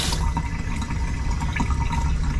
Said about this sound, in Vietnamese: ở đây mình có vòi nước, nước chảy rất là khỏe